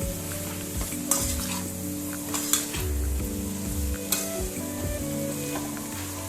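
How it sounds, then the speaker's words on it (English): Potatoes roughly mashed and stirred in a pan for dosa aloo sabzi, with steady scraping, stirring strokes and a soft sizzle underneath, plus a few sharp utensil knocks against the pan, close and continuous without talk. "We will roughly mash the potatoes."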